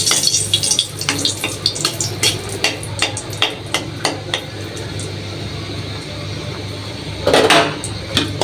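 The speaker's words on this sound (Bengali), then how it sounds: "তেল গরম হয়ে গেছে, দিয়ে দিলাম 2টা শুকনো মরিচ।" Two dried chillies dropped into hot oil for tempering, with a steady close sizzle under repeated sharp utensil taps against a pan and a brief louder burst of spitting near the end.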